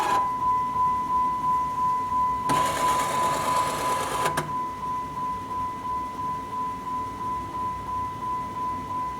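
A Blue Ox brake system unit runs through its setup, giving off a steady high tone with an even, rhythmic pulsing beat and a brief louder whirring burst partway through.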